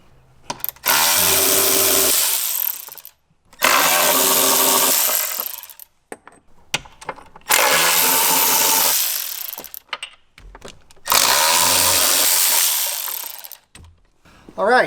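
A power tool with a Torx T40 bit backs out the four bolts that hold the windshield to the roll bar of a Jeep JL Wrangler, in four loud, sustained whirring bursts of about two to three seconds each, separated by short quiet gaps.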